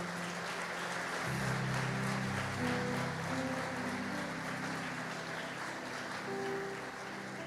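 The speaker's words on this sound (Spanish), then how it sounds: "dale un fuerte aplauso al Señor" A church congregation gives a strong, sustained round of applause during a worship service, steady and fairly distant, while sustained keyboard or organ notes play underneath.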